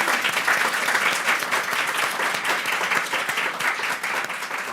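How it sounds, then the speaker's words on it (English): Sustained applause from a large conference audience for a panel, steady dense clapping filling the whole stretch with no pauses. "Please join me in giving our panellists a round of applause."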